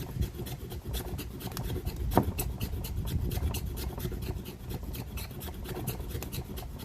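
A knife shaves fatwood into fire-starting shavings, giving a steady, close rasping scrape that runs the whole time with no talk.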